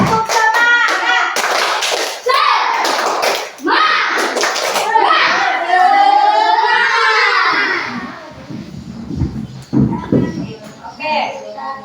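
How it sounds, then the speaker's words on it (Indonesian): A school class claps a rhythmic spirit clap in bursts at the teacher's count, children's voices and shouting mixed in, close and loud, with a teacher speaking afterward. "Ayo, 1, 2, 3. Tepuk semangat."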